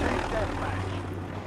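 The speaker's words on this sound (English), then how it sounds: "Chopper is so loud, they need to lower that down" A helicopter in Call of Duty: Modern Warfare drones loudly and steadily as a constant rotor and engine roar. It is close and dominates the clip, with a voice faintly underneath.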